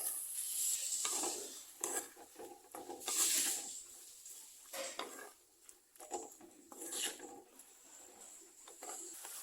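Vegetables salted in a pan for a fish curry are stirred to wilt them, with soft scraping and clinking of a utensil against the pan and a faint sizzle throughout.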